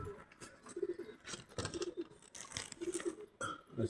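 Pigeons just released from their loft coo softly in low, repeated murmurs, several birds overlapping in short phrases against a faint outdoor background.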